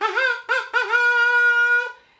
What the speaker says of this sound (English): It's the kazoo!